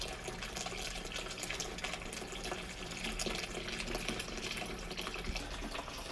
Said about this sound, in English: The gravity itself siphons that water out.